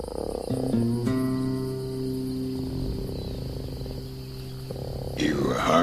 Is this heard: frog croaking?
yes